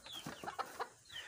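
Chickens at a game farm cluck close by, a quick run of short, throaty clucks and squawks rising and falling within a second, with no talking.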